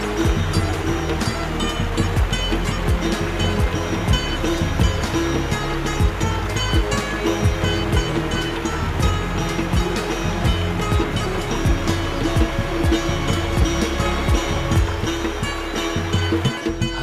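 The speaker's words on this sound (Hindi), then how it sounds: "पानी का शोर इतना मधुर जैसे कोई जल तरंग।" Loud, continuous roar of rushing water, dense and unbroken throughout, from Umbrella Waterfall near Sajikot, Havelian, Abbottabad, Pakistan.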